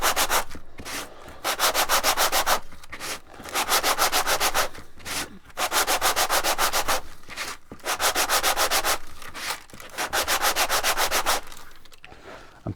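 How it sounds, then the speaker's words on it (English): Rhythmic rasping as a segmented wood piece is rubbed back and forth on flat sandpaper, in steady bursts of quick strokes separated by brief pauses, close and fairly loud. "just backwards and forwards on a flat piece of sandpaper"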